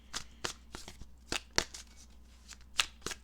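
Cards shuffled and drawn for a tarot reading, a handful of sharp separate snaps and flicks at an uneven pace, close and clear with no talking.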